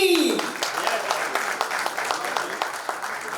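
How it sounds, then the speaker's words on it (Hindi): An audience at a film's first-look stage event applauds the lead actor, a steady patter of clapping from the crowd that starts just after a short vocal tail and carries on. "So जोरदार धमाकेदार तालियां हो जाए for our lead actor"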